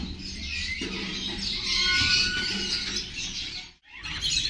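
Birds call at the bird park in Fundera park, Yelagiri, with overlapping chirps and squeals, fairly close and continuous, with no voices heard.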